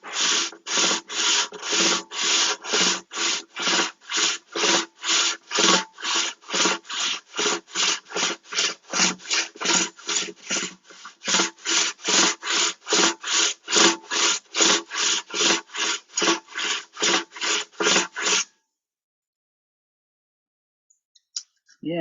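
Sandpaper rubbing back and forth on a wooden ukulele body, a steady run of even scratchy strokes at close range that stops abruptly, followed by near silence and a couple of faint clicks.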